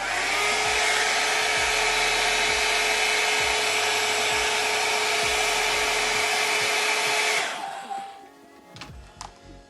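A hair dryer blasts steadily at close range while blow-drying damp hair during a volume-building blow-dry, then cuts off near the end, leaving faint handling noises.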